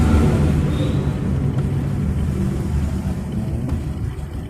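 A Honda Supra X 125 R motorcycle engine idles during carburetor idle-speed adjustment, giving a close, steady low rumble. The note stays fairly even throughout, easing slightly in level toward the end.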